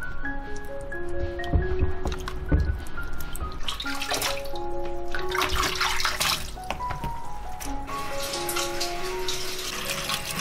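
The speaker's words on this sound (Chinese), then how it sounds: "来把西葫芦、胡萝卜还有香菇洗干净" Zucchini, carrots and shiitake mushrooms washed under a running kitchen tap, water splashing steadily with brief surges as the vegetables are handled, light music playing over it throughout.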